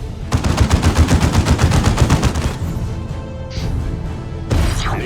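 A turret in the strategy game Dawn of War fires a rapid, even burst of automatic shots for about two seconds, then goes quieter, and a sharp blast follows near the end.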